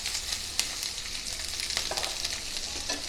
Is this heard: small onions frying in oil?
yes